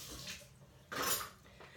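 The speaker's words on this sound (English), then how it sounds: "rinsing off my spoon" A spoon clinks against dishware at a kitchen sink under running water, a brief, quiet rinse with light metallic taps and a short splash.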